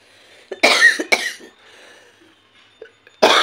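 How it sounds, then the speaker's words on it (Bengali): Several loud, harsh coughs from a person who is unwell, a close cluster of bursts early on and one more sharp cough near the end, with quiet room noise between. "খুব কাশি হচ্ছে,"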